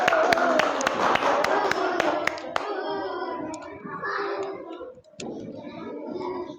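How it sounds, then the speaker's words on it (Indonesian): A classroom group of students claps for a presenting team, starting with sharp close claps that thin into scattered applause over murmuring children's voices. "Beri tepuk tangan."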